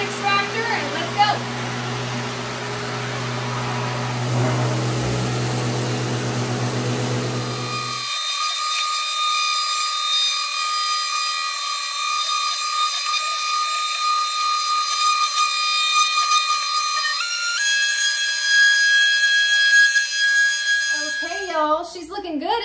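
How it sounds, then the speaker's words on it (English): A Festool ETS EC150 orbital sander connected to a dust extractor works a wooden bench seat, a loud steady whine held for the clip after an initial rumble of the extractor starting, with a voice briefly over it. "I'm gonna be using my Festool ETS EC150. That's the larger of the orbital sanders. And I'm gonna turn it on."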